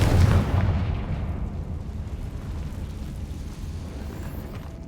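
A Confringo fire spell explodes in the video game Hogwarts Legacy, a heavy booming blast that opens loud and rolls into a long, fading rumble with no talk over it.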